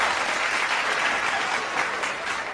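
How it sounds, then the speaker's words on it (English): Dense applause from a crowd, steady clapping throughout with no pauses. "Yo, the applause, though."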